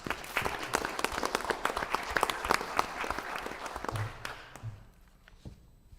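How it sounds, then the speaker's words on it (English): A school board meeting room in Yankton breaks into a round of applause, many hands clapping loudly and briskly for about four seconds before it thins out and stops, leaving a faint room tone. "we would just like to thank you and give you a round of applause"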